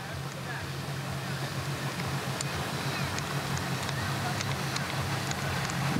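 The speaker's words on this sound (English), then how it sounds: "The boats are returning for the day." Boats returning for the day on open water, a steady broadband engine and water wash with faint wind, continuous and moderately distant, while people talk quietly nearby.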